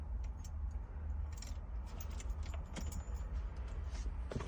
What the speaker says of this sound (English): All the keys.